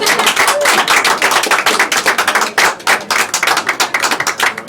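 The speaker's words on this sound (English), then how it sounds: "Give them a round of applause." Applause from a magic show audience, a steady, close, energetic patter of many hands clapping that stays dense and loud throughout.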